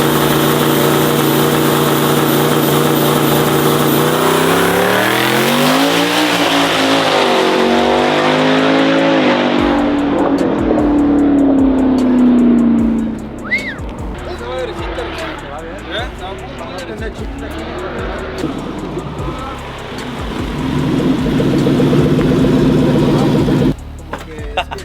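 The King Cobra race car launches on a no-prep drag strip, its engine roaring loud and climbing through revs before fading into the distance, then rumbling again nearby as people talk over it.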